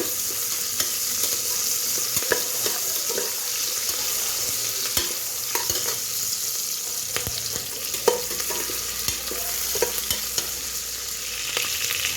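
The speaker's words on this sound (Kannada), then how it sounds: "ನೀಟಾಗಿ ಚೆಂದಾಗಿ ಹುರ್ಕೋಬೇಕು ಕೆಂಪು ಬರುತ್ತಾನ" Onions frying in oil for egg biryani, a steady bright sizzle with scattered sharp clicks and scrapes of a spoon stirring against the pan, continuous and close, no voices.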